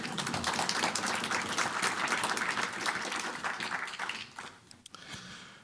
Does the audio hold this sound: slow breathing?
no